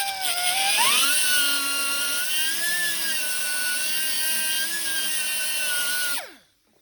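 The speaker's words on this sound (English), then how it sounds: "trim that bolt down a little bit" A high, whining power tool grinds down a bolt on a 1923 C-Cab during assembly, throwing sparks; the loud, steady screech holds for about six seconds, then spins down and stops.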